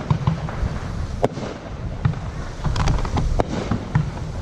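Backyard Fourth of July fireworks from a store-bought bucket, a series of sharp pops and crackling bursts at irregular intervals over steady wind and low rumble, with occasional voices in the background.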